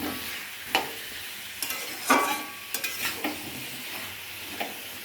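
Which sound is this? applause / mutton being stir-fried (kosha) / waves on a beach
mutton being stir-fried (kosha)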